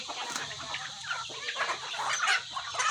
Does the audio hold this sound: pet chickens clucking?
yes